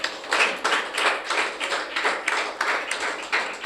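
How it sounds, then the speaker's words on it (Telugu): Church congregation clapping in unison at a sermon, a loud, steady rhythm of sharp claps repeating about three times per second. "చప్పట్లు కొట్టవచ్చు ఒకసారి"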